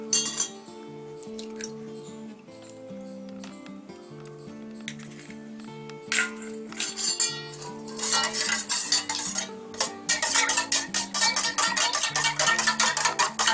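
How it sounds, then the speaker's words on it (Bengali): An egg is cracked for egg finger batter and then mixed, heard as fast repeated clinking and scraping of utensil against a bowl that grows busier, over steady background music. "আমরা এগ ফিঙ্গারের ব্যাটারটার জন্য একটা ডিম ফাটিয়ে নেব।"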